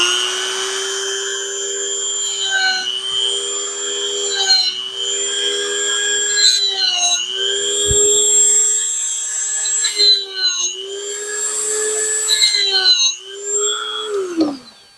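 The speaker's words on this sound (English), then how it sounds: "we're just going to take the Dremel tool and just very lightly put a little groove lined up with the grease fitting openings on the side of the bushing" A Dremel rotary tool cuts a light groove into a rear suspension bushing on a Factory Five Roadster independent rear suspension, its high whine rising and dipping in pitch as the bit bites in short passes, close and loud throughout.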